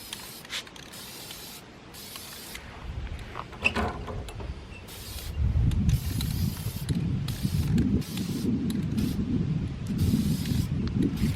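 Short hissing bursts of a spray can painting a horse trailer outdoors in wind, several quick sprays in a row, then steadier low rustling and mechanical noise nearby.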